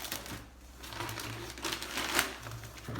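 A plastic bag from an oven installation kit crinkles and rustles as it is handled, with steady crumpling bursts close by for a few seconds.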